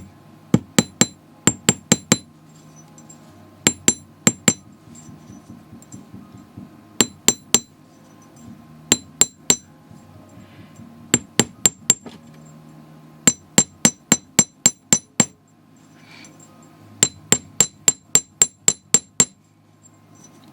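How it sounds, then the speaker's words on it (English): Sharp metallic hammer strikes flatten jewelry wire in bursts of three to seven quick blows separated by short pauses, close and loud, with no talking. "as I hammer this is kind of misshapen"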